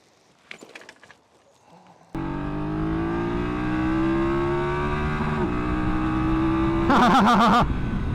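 After a few quiet clicks and knocks, a BMW F900GS Adventure motorcycle engine fires up and revs higher and higher, its pitch climbing steadily before a sharp, louder burst of throttle near the end.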